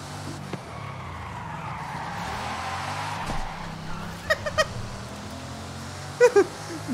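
Bugatti tyres in a racing video game squeal in short, sharp bursts over a steady engine drone, with several quick screeches near the end standing out loudly.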